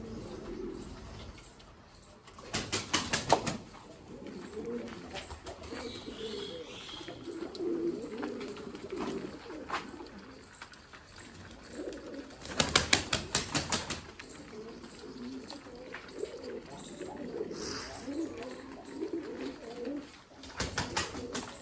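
Jacobin pigeons coo in a master cage, a soft ongoing murmur broken by two sharp bursts of wing flapping or clattering, with faint background sound throughout.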